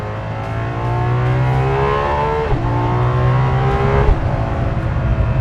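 A Ferrari LaFerrari engine revs hard while driving, climbing loudly through the gears with two clear shifts as the pitch drops and rises again, close and dominant.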